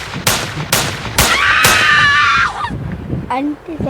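A few sharp gunshots crack in quick succession in a realistic Indian video game, followed by a sustained ringing whine and a shout, loud and close.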